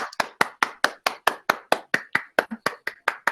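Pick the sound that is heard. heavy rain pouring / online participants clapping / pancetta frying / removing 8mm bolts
online participants clapping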